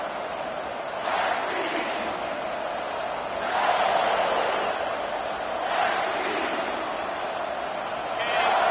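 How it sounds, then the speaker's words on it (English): A roaring stadium crowd in a college football video game between USC and Washington forms a steady, loud wash of cheering that swells in several waves, with a commentator's voice heard over it. "It is getting loud as this crowd tries to help its defense."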